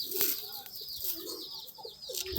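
Pigeons in a loft give soft, throaty coos that are close and fairly loud, with some chirps and a brief flutter of wings, and no talk.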